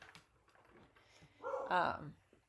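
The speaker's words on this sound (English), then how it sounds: "Stop barking. No barking." A dog barks indoors, giving a few faint, short yips and one louder burst near the end over a quiet background.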